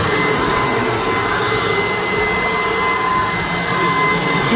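A Shark Pet cordless stick vacuum runs on its carpet setting, a loud, close, steady rushing whine that holds constant throughout with no talking.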